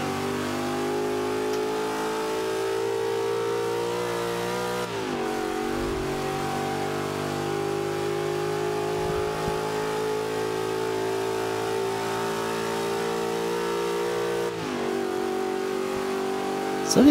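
A Ford Mustang engine in the Forza 5 racing game accelerates in fifth gear, a loud, steady, rising drone that holds for most of the run, with brief dips where the pitch shifts.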